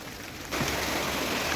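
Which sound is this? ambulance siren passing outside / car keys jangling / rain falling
rain falling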